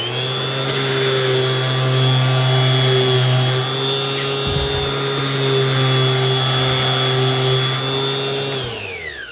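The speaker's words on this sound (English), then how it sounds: "I'm going to do a little sanding real quick" A power sander whines steadily and loudly for the whole stretch, with a brief change in tone partway through and the motor winding down at the end.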